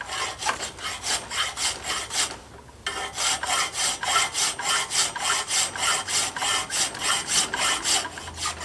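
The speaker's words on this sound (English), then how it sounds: "I'm going to take my square file" Steady back-and-forth rasping of a square file cutting a groove into steel forging tongs, close and loud, with regular rhythmic strokes and a brief pause partway through.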